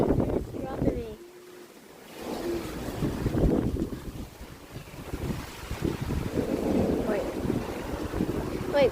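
Strong wind buffets the microphone in loud, rumbling gusts that swell and drop throughout. A person talks under the roar.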